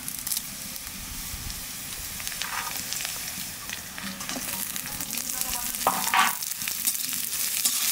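Curry leaves and green chillies hit hot oil in a pan, a loud crackling sizzle that swells and spits in bursts near the end, with faint stirring and no speech.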